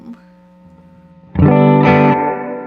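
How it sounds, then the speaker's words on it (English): An electric guitar played through a Walrus Audio Mako R1 spring reverb pedal with the X factor overdrive engaged: a soft, quiet note, then a loud, warm, slightly gritty chord that rings out and washes on with long reverb. "The X factor for the spring adds a gentle, warm overdrive to the reverb input, simulating overdrive in the spring tank"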